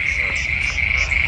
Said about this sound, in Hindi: बारिश के बाद ये मेंढक का शोर आपको सुनाई दे रहा है